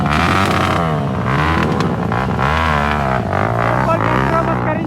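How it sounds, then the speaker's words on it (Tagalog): Motorcycle engine at a Josefina race event in Tarlac, running loud and steady with harmonic drone rising and falling as it revs, amid crowd noise and an announcer talking over it. "Kaya mag-start yung motor niya."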